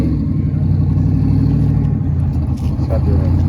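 A stock Chevrolet Corvair engine with factory carburetors and trombone exhaust runs at steady, loud revs, a dense low droning rumble that holds throughout with slight mechanical clatter.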